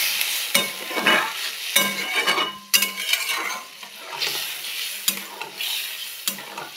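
A spoon stirs fish curry masala in a hot pan, scraping the metal in repeated strokes while the mixture sizzles steadily and close by.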